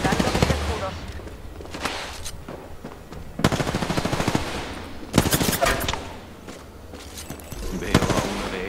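Automatic gunfire from Apex Legends rattles in several loud bursts with short pauses between them, over a noisy battle backdrop.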